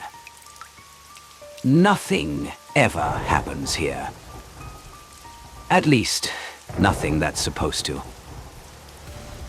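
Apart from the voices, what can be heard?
rain falling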